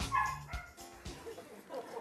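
Dogs bark and yip in a short burst within a noisy, busy soundscape on a television broadcast, the barks fairly loud over a dense background.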